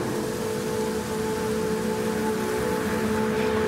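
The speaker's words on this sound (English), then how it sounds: "The noise of the rain" Steady rain pours down during a Toyota GR Cup race at the Nürburgring, a constant, even wash of noise that stays loud and unbroken from start to finish, with no voices over it.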